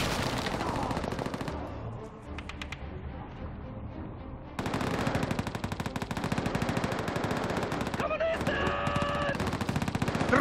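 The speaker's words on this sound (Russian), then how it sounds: "Стрельба привлечет его внимание" Rapid machine-gun bursts and scattered rifle shots from a Red Army mission in the video game Call of Duty: World at War, loud and continuous, with a brief quieter lull before the firing swells again and a few sharper metallic hits near the end.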